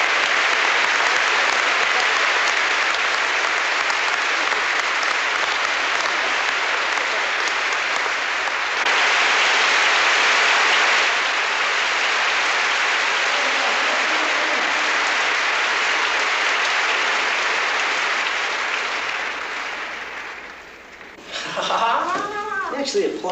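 Sustained concert audience applause, a thick wash of clapping from a large hall crowd that holds steady for about twenty seconds before fading, followed by someone speaking close by.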